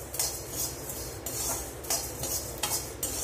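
A cup of coriander seeds is dry-roasted in a pan after asafoetida, for Chettinad sambar powder. The seeds make rhythmic scraping, rattling stirring strokes that repeat roughly every second, close and clear, with no talk.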